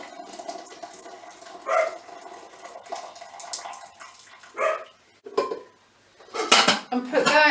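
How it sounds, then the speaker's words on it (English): Boiled swedes being drained in a pan, with metallic clatter of the pot and utensils and a short pour of water, heard close in a home kitchen with a dog barking briefly. "I'm going to drain off the Swede water"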